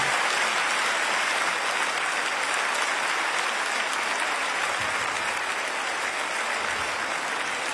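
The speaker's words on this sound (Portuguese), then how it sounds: "Um grande aplauso." Sustained applause from a concert audience, dense, even clapping that stays steady throughout with no voices above it.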